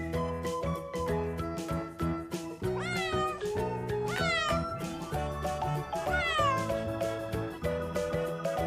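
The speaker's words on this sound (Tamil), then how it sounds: "cat." A cat meows several times, drawn-out rising and falling cries, heard over continuous background music.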